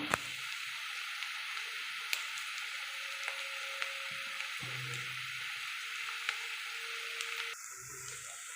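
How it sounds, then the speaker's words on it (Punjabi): Masala spices and onions frying in a pan for a green gourd curry, making a steady, close, broadband sizzle with a few faint clicks of stirring, no talking. "ਤੁਸੀਂ ਦੇਖ ਸਕਦੇ ਹੋ ਜੀ ਸਾਡਾ ਮਸਾਲਾ ਜਿਹੜਾ ਕੀ ਭੁੰਚ ਰਿਹਾ"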